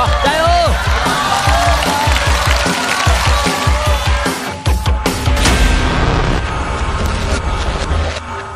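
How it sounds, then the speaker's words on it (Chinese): A crowd at a live show claps rhythmically and cheers as a badminton champion gets ready to slice a watermelon with shuttlecocks. The sound is loud and continuous, with voices mixed in. "来点掌声啊"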